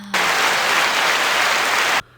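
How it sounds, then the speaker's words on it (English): A burst of loud, dense canned-style applause for a guest on a homemade show, starting abruptly, holding steady for about two seconds, then cutting off sharply. "let's get some applause for James"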